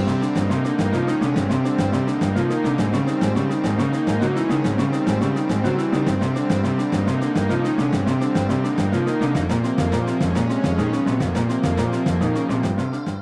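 Busy video game boss-fight music in an odd 23/16 meter, with xylophone, timpani and snare drum hammering dense, relentless sixteenth-note groupings at full steady loudness throughout.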